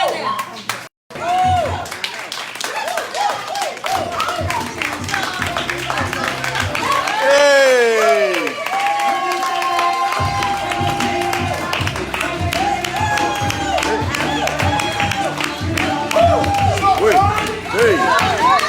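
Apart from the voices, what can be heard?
audience clapping and applauding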